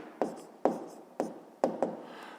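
A pen writes fractions down on paper in a fifth-grade math exercise, five quick, close scratchy strokes spaced about half a second apart, faint and alone.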